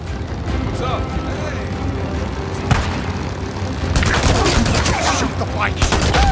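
Gunfire in the video game Days Gone, a bike chase shootout: bursts of sharp shots crack out over a dense, noisy game mix, with heavier volleys toward the end.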